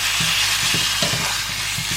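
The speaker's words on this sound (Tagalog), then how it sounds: "We mix it until our ground meat will cook." Ground meat sizzles steadily in a hot pan for a homemade burger, with chili powder added, while a spoon scrapes and stirs it in several distinct strokes. Close, continuous frying hiss under the stirring, no talking.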